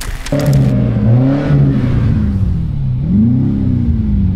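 BMW X6M engine revving at a BMW meet, loud and close, with a deep rumble rising and falling through two throttle blips after a brief sharp noise at the start.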